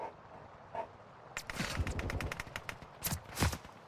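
Rapid bursts of Call of Duty video game gunfire crackle in quick clusters after a quiet start, with a few louder single shots near the end.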